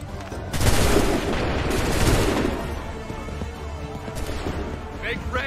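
Musket volleys and battle gunfire from Assassin's Creed III's Lexington and Concord battle, a loud, sustained burst of overlapping shots and booms with continuing rumble and scattered further reports, mixed with shouted voices.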